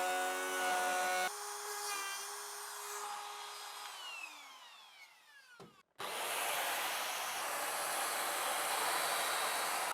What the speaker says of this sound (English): Using the router to tidy up all the edges is a little bit of a tedious process